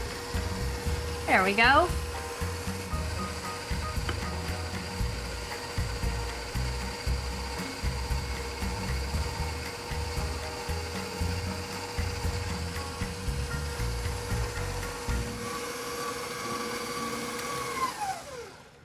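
Stand mixer running steadily on low while creaming butter and sugar for snickerdoodle dough, a continuous mechanical hum with a brief scraping clatter near the start and the motor winding down at the end; a voice speaks briefly over it.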